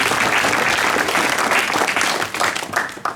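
Loud, dense applause from an outdoor theatrical walk audience in Gerpinnes claps for a performer, sustained throughout with a slight dip toward the end.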